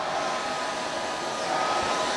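A blow dryer heats a smashed fedora hat, giving a loud, steady airy roar that runs unbroken and close up with no speech.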